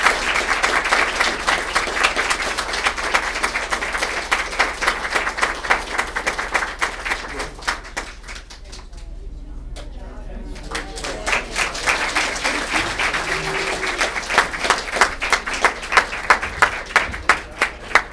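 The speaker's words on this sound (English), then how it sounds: "give them a nice, healthy round of applause as they exit" A community audience at a city State of the City event gives a sustained round of applause, dense steady clapping that briefly thins and dips before swelling again, with a voice speaking over it midway.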